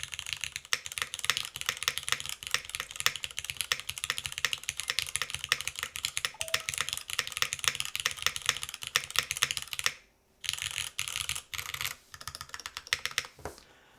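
Steady, fast typing on a low-profile Matrix ortholinear keyboard, dense thin clacks running continuously and close up, with a short pause near the end before a few final bursts of keystrokes.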